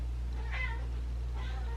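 A cat meows twice, close and fairly soft, spaced about a second apart over a steady low background hum.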